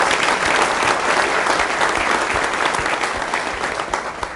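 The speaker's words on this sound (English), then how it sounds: "I'd like to ask you for a round of applause for all those people" An audience at a meeting breaks into dense, steady applause, loud and sustained throughout, tapering only slightly near the end.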